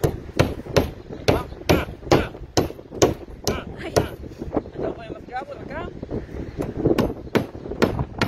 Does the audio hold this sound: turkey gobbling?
no